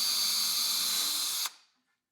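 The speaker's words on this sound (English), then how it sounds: "What I'm going to use here is a countersink drill bit so I can make sure that the screw heads are exposed" Power drill pre-drilling with a countersink bit for cabinet screws, a steady high whirring run that stops abruptly near the end and fades into silence.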